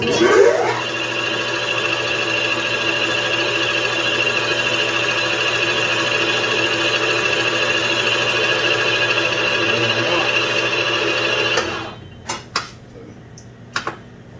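A Husqvarna 372XP chainsaw engine runs steadily and loudly for about eleven seconds with a droning, whining tone, then cuts off, leaving a few brief clicks and knocks in near silence.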